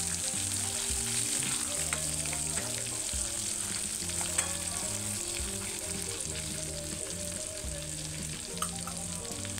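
Stuffed brinjals sizzle and fry in hot oil with curry leaves in a pan, a steady crackling hiss with soft stirring scrapes throughout, close and moderately quiet.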